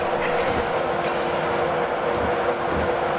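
A Class 91 high speed train rushes past nearby on the London to Stevenage line, a steady loud roar of wheels and wind with faint rhythmic clatter throughout.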